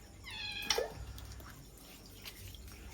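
A cat gives a single clear, close meow near the start, then only faint household background remains.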